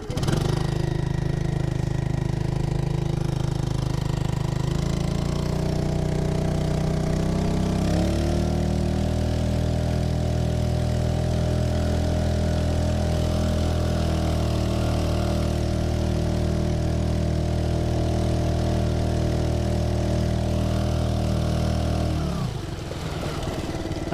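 A Honda 2.3 HP outboard motor drones continuously on a Pelican Bass Raider boat, loud and close, its pitch stepping up after a few seconds and holding steady until it dips near the end.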